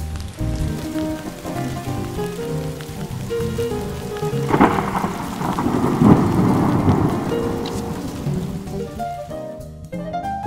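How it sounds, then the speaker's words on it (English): Video game thunderstorm from Shoujo City 3D, with steady heavy rain hissing throughout and a deep thunder rumble swelling in the middle before fading out. "hope the rain stops"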